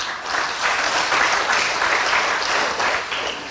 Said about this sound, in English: Here you are, clapping for them.